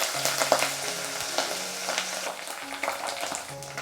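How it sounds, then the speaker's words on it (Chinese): Dried tea leaves frying in a pan of hot oil, a continuous bright sizzle and crackle with occasional stirring scrapes and clinks, close and moderately loud, with no talking. "把晾干的茶叶放进来炸一下"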